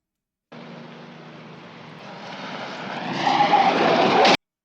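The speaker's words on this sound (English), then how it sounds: "Car dirt skid hits metal rail." A car skids on dirt and strikes a metal rail in a racing sound effect, starting at 0.5 s as a steady rumble and growing louder and harsher before a sharp metallic hit at the very end.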